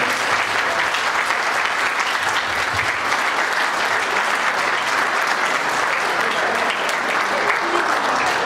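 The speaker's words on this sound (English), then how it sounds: "Nice round of applause" Guests at a wedding reception give a long, loud round of applause, a dense and sustained clatter of many hands lasting over eight seconds, with faint voices mixed in beneath.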